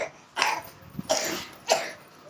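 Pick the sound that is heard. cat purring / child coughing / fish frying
child coughing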